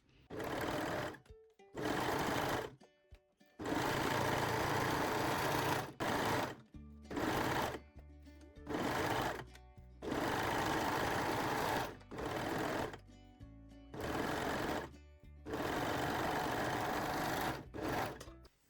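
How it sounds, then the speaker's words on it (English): A serger stitching a jersey and lace seam, running in loud close bursts of steady whirring, each a second or two long, broken by short pauses, with no talk. "Now we can sew the center front seam and also the crotch pieces together using a serger or zigzag stitch."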